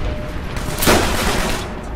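A grenade goes off in the World War II shooter Call of Duty: World at War, a single sharp, loud blast about midway, set against a busy, steady background of in-game noise.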